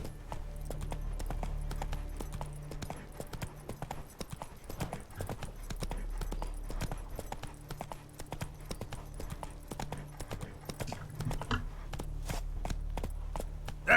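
Roach, the horse in The Witcher 3, trots with a steady, rhythmic clip-clop of hooves that stays close and even throughout, with brief faint speech over a low ambient bed.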